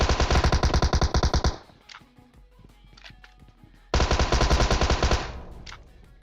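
Rapid automatic gunfire in the PUBG Mobile video game, two long loud bursts of fast shots separated by a quieter stretch with scattered single reports.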